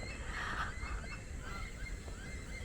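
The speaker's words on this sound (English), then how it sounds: "Listen to all the birds." Geese honking in the open in Brisbane, Australia, a few calls rising over steady outdoor background noise, fairly distant and not very loud.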